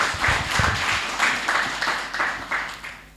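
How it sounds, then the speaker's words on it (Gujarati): An audience at a Gujarati Christian worship gathering claps for the name of Jesus, a steady run of applause swelling in rhythmic bursts, fairly close and filling the room with no talk over it. "તાળી પાડી ઈસુ નામને માટે."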